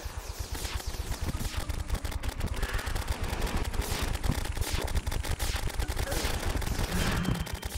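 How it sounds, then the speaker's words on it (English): Rapid bursts of gunfire from the Candy Corn Rifle aimed at the Pumpkin boss in Terraria, a dense, steady stream of close, loud shots continuing without a break. "I'm just focusing on shooting you right now in the face"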